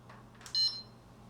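A fire alarm control panel with an LCD gives one short, sharp electronic beep as its button is pressed, close and clear over a low hum, preceded by faint handling clicks.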